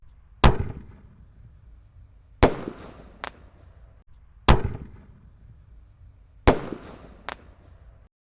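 Bima Sakti 4 red firework going off in four sharp, loud bangs about two seconds apart, most followed by a smaller secondary pop, each trailing into a brief crackling decay.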